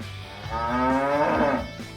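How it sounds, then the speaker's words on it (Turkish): Cow mooing in a children's farm game, a single long, loud bovine moo rising and falling over about a second and a half, close and clear with no talk over it. "Bakın bu bir inek."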